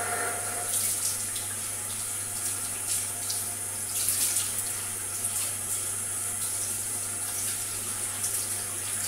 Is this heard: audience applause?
no